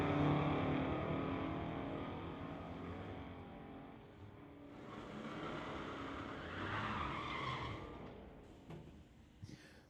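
A 1990 Ford and a 1969 Dodge Dart drag racing at a track, heard as faint distant engine roar and tire noise that swells and fades over several seconds, ending with a few sharp clicks.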